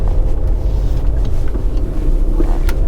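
An Audi A6 being driven, with a steady low engine and road rumble heard from inside the car, mixed with wind buffeting and a few faint knocks.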